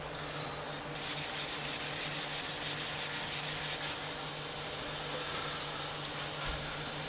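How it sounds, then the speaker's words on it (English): Cloth rubs finishing wax over a restored axe head in a soft, steady, raspy wiping sound, faint and continuous against quiet background hum. "I think I'm just going to go over it with the finishing wax."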